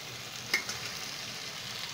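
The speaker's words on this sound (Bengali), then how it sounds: "এখন এর মধ্যে আমি সয়াবিনটা দেব।" Soybeans are dropped into mixed vegetables sautéing in a pan, producing a steady close sizzle with a single sharp tap and brief rattle near the start, and no voices.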